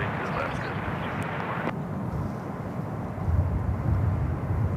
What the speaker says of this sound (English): United taking off and I'm out.